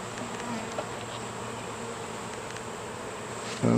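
A dense, steady buzzing of many honeybees around a hive hums continuously, close and fairly loud, with a brief bump near the end.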